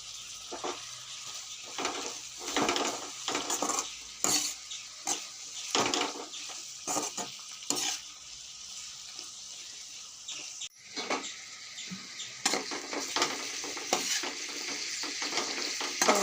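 Cumin seeds frying in hot oil for an egg roast, with crackly sizzling broken by repeated stirring and scraping sounds, close and steady over about sixteen seconds, with no voices.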